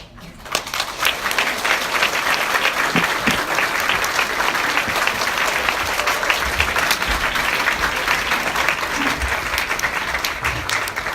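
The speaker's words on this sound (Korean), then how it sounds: "여러분이 지금 친 박수에는 약간의 의도가 담겨져 있습니다." A large audience claps continuously at an evening talk, a dense, loud, steady roar of applause sustained for about eleven seconds with no break.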